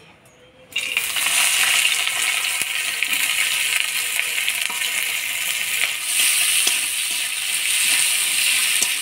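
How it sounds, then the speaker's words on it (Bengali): Chopped onion hits hot oil in a pan and bursts into loud, crackling sizzling, then keeps up a dense steady frying hiss close by for several seconds. "এবার দিয়ে দিব পেঁয়াজ কুচি"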